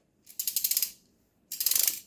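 Telescopic anti-rust tube on a Cobra AS-C28 bagless cyclonic vacuum cleaner being pushed forward to lengthen it, giving two close bursts of rapid ratcheting clicks separated by a short pause.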